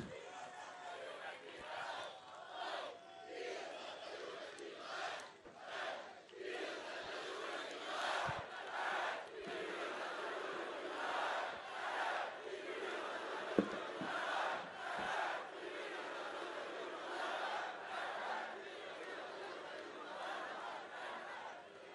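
A large outdoor crowd at the Napoli squad presentation in Dimaro roars, chants and applauds continuously and at a distance, with occasional sharp claps and shouts standing out.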